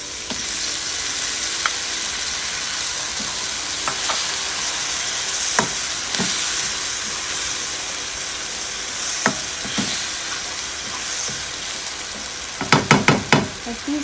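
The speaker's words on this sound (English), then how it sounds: "This is like about 30 seconds we have to fry with this one, all ingredients" Eggs, potatoes and other ingredients fry in a pan with a continuous broad sizzle, broken by sparse spatula scrapes and a quick cluster of sharp clacks near the end, close and moderately loud with no voices.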